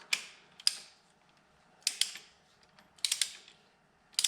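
A ratchet with a 6-point socket works on engine head bolts during a Hammer 1250 kit install, sounding as short bursts of rapid clicking in four separate groups with quiet gaps between, close and fairly soft.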